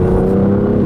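A 2017 BMW M2 coupe engine on a rough B road, a brief steady droning rev with a tonal hum, loud and close, no voices.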